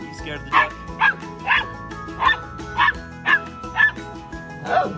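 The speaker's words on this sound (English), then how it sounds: "Why are you barking? You scared the duck." A puppy barks repeatedly at a steady pace, about eight sharp barks close by, with some faint background noise between them.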